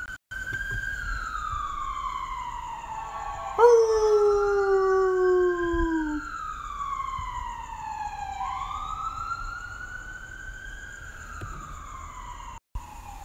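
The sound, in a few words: siren outside with dog howling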